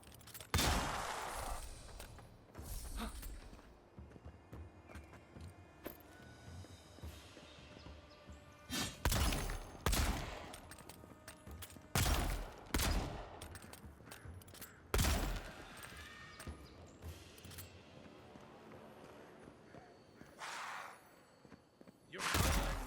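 Bursts of gunfire in the fantasy action RPG Avowed by Obsidian, with loud repeated shots and volleys crashing in irregular clusters over a busy background of combat noise.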